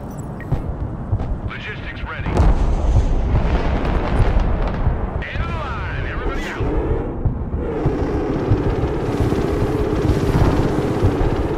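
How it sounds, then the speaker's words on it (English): Helicopters in the military strategy game Broken Arrow, heavy rotor and engine roar mixed with explosions and gunfire bursts, loud and continuous, with a voice talking over the battle. "Helicopters."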